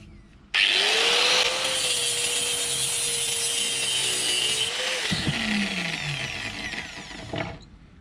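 A saw cuts through one end of a metal cake rack during a home-built hot fish and meat smoker project, giving a loud, steady rasping buzz for several seconds before a metallic clunk and a fading ring.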